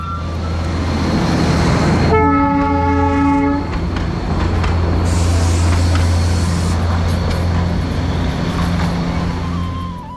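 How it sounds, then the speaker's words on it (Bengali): Darjeeling toy train rumbling steadily past with a loud, sustained horn blast of about a second and a half near the start, the heavy rolling noise continuing throughout. "দেখতে পেলাম দার্জিলিংয়ের টয় ট্রেন, যেটা দার্জিলিংয়ের মুখ্য আকর্ষণ।"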